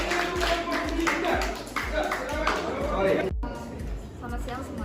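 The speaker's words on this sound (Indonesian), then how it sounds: "beri tepuk tangan untuk kelompok 2" Classroom applause for a student group presenting in a lesson: steady clapping from many hands that runs through the clip, mixed with children's chatter, with a brief drop near the end.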